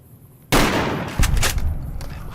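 A shotgun loaded with slugs fires in Fallout New Vegas, one sharp loud blast followed by a rolling echo and a second thump shortly after, with no talking over it.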